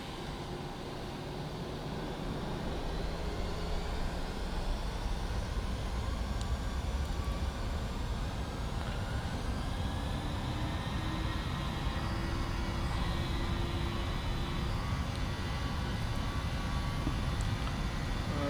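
Boeing 737-800 jet engines spooling up to takeoff power on departure from Barcelona, a steady loud roar with rising whine tones that builds over the first seconds and then holds constant, heard from inside the cockpit.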